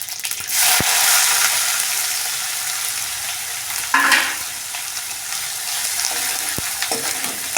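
Cumin and onions hit hot oil in a pan for baingan bharta, a loud, steady sizzle with a burst of crackle midway and occasional clicks of stirring, close by and without speech.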